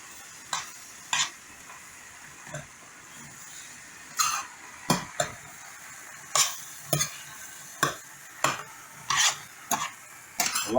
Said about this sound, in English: So over here and turn my okra again.